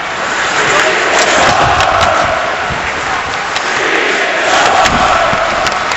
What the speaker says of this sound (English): The chant by the Ranger crowd is season's over